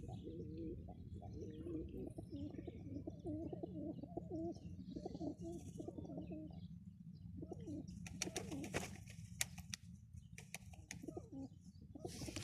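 Pigeons or doves cooing softly and repeatedly nearby, with a few brief chirps and fluttery wing sounds joining toward the end.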